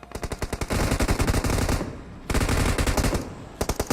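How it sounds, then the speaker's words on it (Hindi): Automatic gunfire in the PUBG battle royale game, rapid bursts of machine-gun shots in dense sustained volleys with short gaps between them, loud and close with no talking. "इधर से फायरिंग की साउंड आ रही थी"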